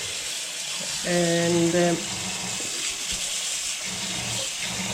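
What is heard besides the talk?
water running while rinsing nettles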